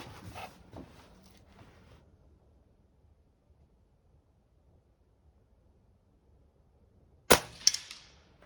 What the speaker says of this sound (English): Let's take another shot and see what happens